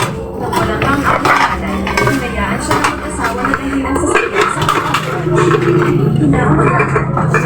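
Plates and dishes clatter and clink repeatedly in irregular bursts while people talk over the noise nearby, at a charity gift handout.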